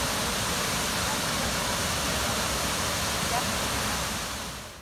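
Hooker Falls roars as a steady, broad rush of falling water, close and constant, fading slightly at the end.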